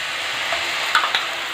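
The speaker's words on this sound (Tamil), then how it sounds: "இப்போ இதை கை விடாத கலரணும்." Ground flour batter with cardamom stirred in hot ghee for Ukkili sweet, a steady close sizzle with a few soft scraping stirs, no talk.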